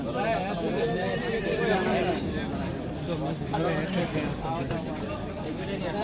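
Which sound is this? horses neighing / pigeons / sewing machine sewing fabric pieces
horses neighing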